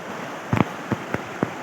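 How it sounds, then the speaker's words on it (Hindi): Steady hiss of a mountain waterfall near a glacier fills the air, broken by a few brief soft knocks, with no one speaking. "वो अबशार है।"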